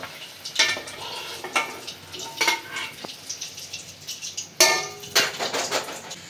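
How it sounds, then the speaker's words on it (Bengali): Eggs fry in a pan with a steady soft sizzle, broken by repeated scraping and clinking of a spatula against the metal. "ডিমটা ভাজা হয়ে গেছে, একটা একটা নামাই নিচ্ছি।"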